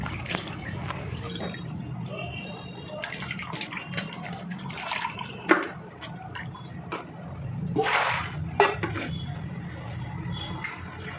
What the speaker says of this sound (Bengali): তো মাছগুলো ধুয়ে নিই